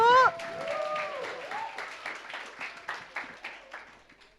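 An audience clapping to welcome a group at a church small-group launch event, steady moderately loud applause continuing for several seconds after a short spoken announcement.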